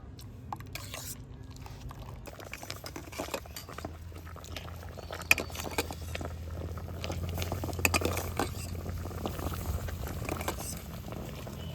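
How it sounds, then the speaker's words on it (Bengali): Aloe vera soap mixture is whisked by hand in a bowl, giving quick, uneven wet clicks and soft sloshing taps close by over a low background hum, with no talk. "এবারে প্রত্যেকটা উপকরণ দিয়ে দিয়েছি ভালো করে এইভাবে একটু ফেটে নেব"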